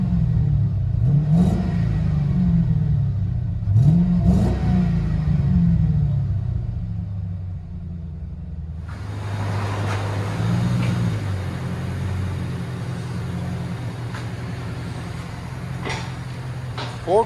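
A 2003 Ford Crown Victoria Police Interceptor P71 with a 4.6L V8 and a full dual exhaust with X-pipe, Dynomax race bullets and 4-inch rolled tips. It gives deep, throaty revs that swell and fall twice, then settles into a loud, steady rumble with a rough high-frequency rasp.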